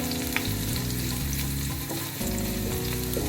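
Onion fries in a pan for a chicken stir fry, a loud, close, continuous sizzle with occasional scraping stirs and no talk over it.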